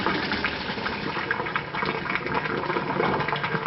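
Cooked pasta for a pasta salad drained and rinsed, a steady close rush of running, splashing water throughout with no pauses.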